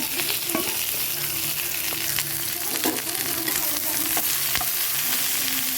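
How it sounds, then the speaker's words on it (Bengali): Okra frying in hot oil with panch phoron and dried chillies gives a steady, close sizzle, broken by scraping stirs and sharp spatula knocks against the pan. "তেল দিয়ে দিয়েছি আর এই যে এখানে পাঁচ ফোড়ন আছে শুকনো লঙ্কা আছে দিয়ে দিলাম ভেন্ডিগুলো দিয়ে দিলাম এখানে"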